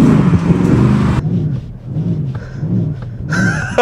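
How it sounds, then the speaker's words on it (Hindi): A car's loud exhaust revs hard in Baja drive mode, the sportiest and loudest setting, a deep rumbling roar that swells and dips several times close by, with no talking. "ऑफकोर्स एग्जॉस्ट भी लाउडर होता है. सो इवन स्पोर्ट से Baja मोड में जब भी आप डालते हो सबसे लाउडेस्ट सेटिंग"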